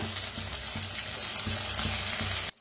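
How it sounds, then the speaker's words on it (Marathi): Tomato going into onion that is already frying well in a pan makes a loud, steady sizzle with a repeating rhythmic crackle. The sound stays continuous and close, then cuts off near the end. "आता कांदा छान भाजलेला आहे, त्याच्यातच टाकूया टमाटर।"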